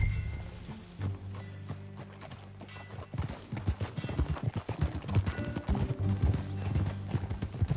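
Horse hooves clip-clop steadily in the video game Red Dead Redemption, starting sparse and building into a brisk, close rhythm over a low musical drone.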